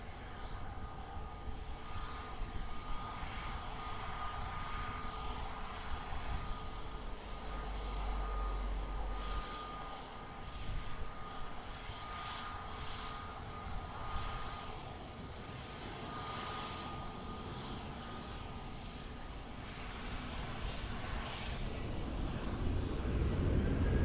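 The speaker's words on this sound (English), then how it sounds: "Boeing 737 now rolling" A Boeing 737 rolls for takeoff at Lisbon Airport, its jet engines making a steady, sustained roar that holds level for about twenty seconds and then swells louder toward the end, with no voices over it.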